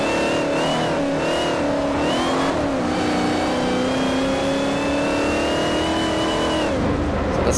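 A Saleen S5S race car in Forza 4 revs hard, its engine note climbing and falling through gear changes with brief tire squeal, loud and continuous for several seconds.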